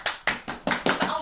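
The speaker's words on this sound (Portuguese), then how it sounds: "Palmas." Five crisp hand claps in a steady, fairly quick rhythm, close and loud, each with a short ringing decay.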